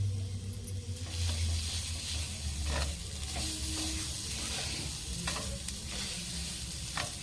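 A coconut and sugar sweet filling stirred in a hot pan, with continuous sizzling and repeated scraping strokes of a spoon, close and steady throughout.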